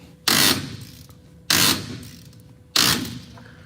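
Three loud, evenly spaced ratchet bursts, each a sharp rattling click-run that fades, as a wrench turns the S cam on a truck brake, close up with no voice.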